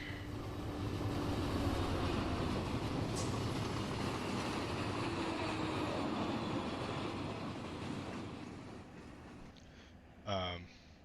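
An Amtrak train rumbles steadily past in the Run 8 train simulator, a broad continuous roar that fades slightly toward the end, followed by a brief warbling horn-like tone near the close.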